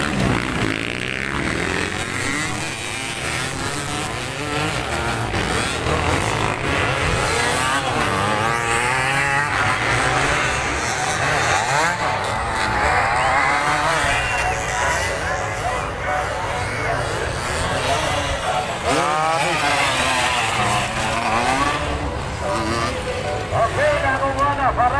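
Enduro motorcycles, including a 150 class bike, race at a local event in Wao, Lanao del Sur, their engines buzzing and revving loud and continuous, with an announcer talking over them.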